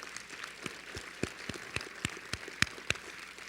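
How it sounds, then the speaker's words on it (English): Scattered applause from an audience at an award ceremony, a series of separate claps at an uneven slow pace, faint and distant against a quiet room hiss. "please stand and let's give you a round of applause too"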